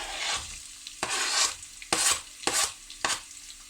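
Garlic and onion go into a hot pan for a lentil curry, sizzling in repeated bursts as they are stirred and scraped around, each burst close and fairly loud; no talk.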